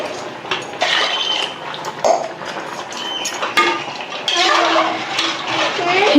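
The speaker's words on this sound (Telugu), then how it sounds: "లీటర్న్నర నీళ్ళు అయితే పోసుకోవాలంట" Water poured into a pot of country chicken curry in a village kitchen, a steady splashing pour with clinks of pots under ongoing talk.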